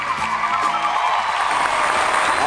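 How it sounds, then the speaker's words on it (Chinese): Studio audience at a Beijing TV drama program applauds to welcome the cast on stage, a loud, dense wash of clapping that holds steady for the whole stretch, with some music or voices faintly underneath. "接下来让我们掌声欢迎各位演员登场"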